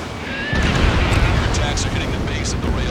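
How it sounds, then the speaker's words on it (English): Explosions of a destroyed rail cannon in the video game Ace Combat 7, a dense continuous roar and rumble of blasts rising sharply after a quiet start and sustained loud to the end, with game dialogue voiced over it. "Confirming explosions. The rail cannon's been destroyed."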